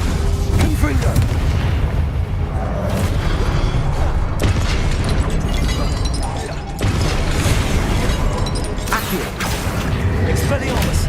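Repeated Confringo blasting-spell explosions boom through a Hogwarts Legacy battle, heavy dense bursts stacking under constant game noise and music, with sharp cracks around 4.4, 6.8 and 9 seconds.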